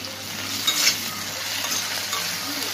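Green chilies and chopped tomato sizzle in a hot pan, a steady close frying hiss with a brief clatter of stirring near the start.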